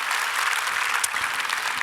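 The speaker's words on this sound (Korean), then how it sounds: "다시 한번 하나님께 영광의 박수 올려드립니다" Congregation applauding together in praise to God at a Korean church prayer conference, a dense, steady wash of clapping filling the room throughout.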